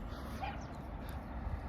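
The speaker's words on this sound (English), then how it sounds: "That sounds like that wee dog that was attacking me earlier." A small, yappy white dog barks faintly in the distance during an outdoor walk in Dunoon, Scotland, half-buried under steady street and wind noise.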